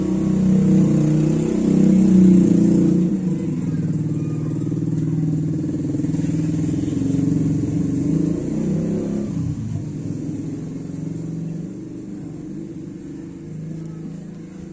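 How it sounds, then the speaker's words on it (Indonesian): A car carrying a round fried tofu vendor passes through a village, its engine a steady, muffled low hum that holds for the whole stretch and eases slightly toward the end. "ini terdengar ya sayup-sayup suara tukang tahu bulat di mobil"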